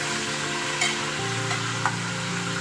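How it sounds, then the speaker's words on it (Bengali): Carrots and beans frying in a pressure cooker for chicken stew, a dense steady sizzle with a couple of quick stirring scrapes over a low background hum. "এবার আমি ভালো করে কুকারের মধ্যে সবজিগুলোকে ভেজে নিচ্ছি।"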